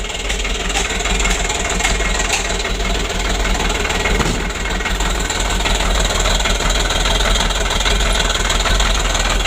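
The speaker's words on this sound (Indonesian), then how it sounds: "Mesinnya langsamnya jeglek-jeglek." A 2016 Hino Dutro 130 HD truck engine with a suspected fuel pump fault idles roughly and unevenly, a continuous low knocking chug heard close up and alone.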